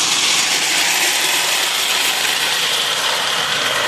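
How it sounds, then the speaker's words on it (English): A 1960 Lionel model steam locomotive strains to haul heavy cars along a track, giving a loud, continuous mechanical whirring and grinding of motor and gears, close and steady throughout. "She's really working. Working hard. Hauling these heavy cars."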